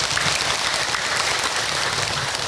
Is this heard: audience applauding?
yes